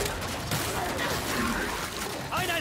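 Gunfire in the video game Gears 5 as shots hit ice, a close burst of rapid cracks over game effects and a faint crunching, with a voice talking under it.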